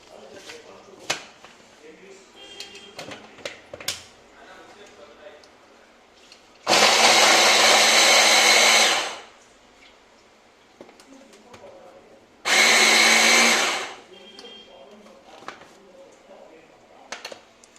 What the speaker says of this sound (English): now we're going to get them blended together